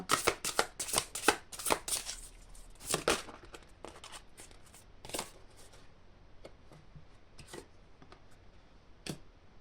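Tarot cards shuffled for a reading, a dense burst of crisp riffling and slapping at close range that thins into scattered soft flicks and taps, with no talking.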